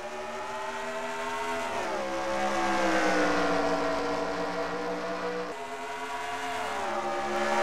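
Race trucks roar around the Dover oval in a racing game, their engine notes wailing and shifting pitch as they pass. The sound is continuous and fairly loud, with no talking over it.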